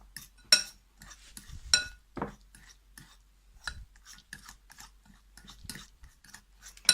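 Powdered milk crystals being crushed for homemade beetle jelly, giving close, sharp clinks and scraping taps of a utensil against a container, irregular and spaced out over several seconds with quieter gritty rubbing between, no voices.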